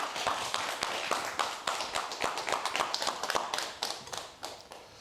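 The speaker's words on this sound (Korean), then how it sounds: "박수 부탁드립니다" Quiet audience applause before a professor's health lecture in a hall, a small crowd clapping unevenly for several seconds, faint and somewhat distant.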